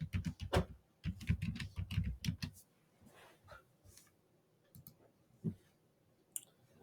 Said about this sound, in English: Here's where we type in production.